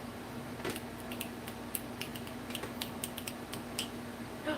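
A computer mouse or keyboard clicks in a craft room during a livestream giveaway draw, a quick irregular series of light, close taps over a faint steady background hum.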